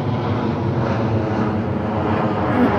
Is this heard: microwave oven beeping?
no